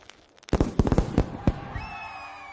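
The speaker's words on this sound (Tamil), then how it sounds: "வானில் பட்டாசுகள் மலர்ந்தன." New Year fireworks crackle and boom in a rapid cluster of sharp bursts, loud and close, then fade into a lingering hiss with a faint whistling tone trailing off.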